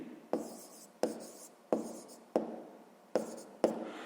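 Pen writing on a worksheet during a grade 6 math exercise, with six sharp pen-down taps each followed by a short scratching stroke, close and clear, with no voices.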